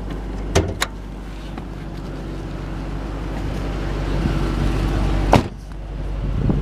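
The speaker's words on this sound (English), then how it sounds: "put the automatic driver's side window down, unlock all the doors, and we'll pop the trunk." 2010 Ford Mustang GT Premium with a 4.6 engine, its power window motor humming steadily as the driver's side glass lowers, with sharp clicks of the door locks near the start and another thunk later, heard close.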